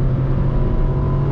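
A 2020 Ford Ka Sedan SE 1.5 with a manual gearbox accelerates on a highway, giving a loud steady engine drone with a low hum inside the car.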